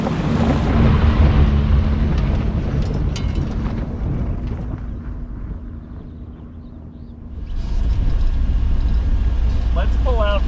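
A 1985 Alfa Romeo safari car climbs a desert hill, its engine rumbling loud and steady with gravelly tire noise, easing off midway before surging again.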